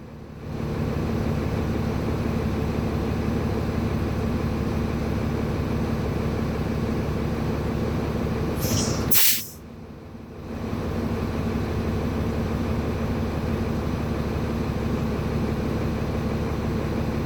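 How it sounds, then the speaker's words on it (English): Air brake pressure on a truck vents in one short, sharp hiss when the service brake is pressed. It lands in the middle of a steady idling engine drone, and the engine hum dips briefly after the burst. "I'm going to release some pressure with my service brake and wait some time."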